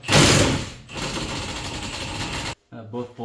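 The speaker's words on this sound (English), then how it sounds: "I'm going to use a 14mm socket to remove the two bolts in the back side." A 14mm socket wrench works loose the brake caliper mount bolts on the rear drum brake of a 2005-2009 Hyundai Tucson: a loud burst of clattering, then a rapid mechanical rattle. A voice speaks briefly at the end.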